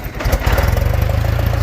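A Farmall 504 tractor engine starting rumbles steadily at close range, a low pulsing chug that settles into an even idle after a brief rise at the start.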